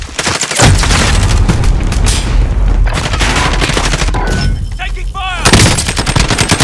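Loud, close gunfire in Call of Duty: Modern Warfare, with sustained bursts of automatic shots and booming impacts filling most of the stretch, then a short break before firing resumes.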